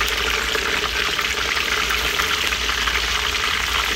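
Duck meat frying in hot oil, a steady, loud, dense sizzle and crackle that holds evenly without pause and with no talking.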